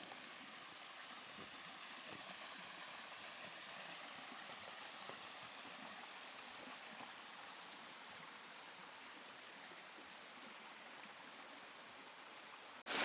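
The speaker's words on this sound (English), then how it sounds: "Little Wilson Falls." A waterfall at Little Wilson Falls in a wooded gorge in Maine, a steady, broad rushing roar of falling water, even and continuous, with a brief louder burst at the very end.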